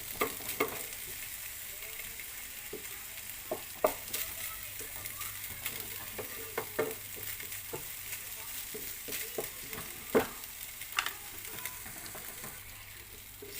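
Chicken tocino, thinly cut and small, sizzles and fries steadily in a pan, with frequent scrapes and clicks of stirring breaking through the continuous crackle.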